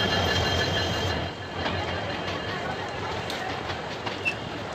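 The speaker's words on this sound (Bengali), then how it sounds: "এই ট্রেনটা ঢাকা থেকে ছেড়ে কক্সবাজার যাবে" A Dhaka to Cox's Bazar train rumbles steadily past at a railway station with continuous rolling wheel noise and faint metallic squeals.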